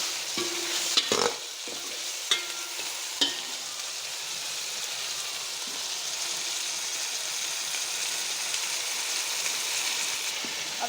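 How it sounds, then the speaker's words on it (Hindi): Onions frying in a pan for a desi chicken curry, with a steady sizzle and a few sharp scrapes and clatters of a spoon stirring early on, and no talking. "प्याज़ों को हम हल्का ब्राउन होने देंगे। डालेंगे, इसे अच्छी तरह से भून लेंगे।"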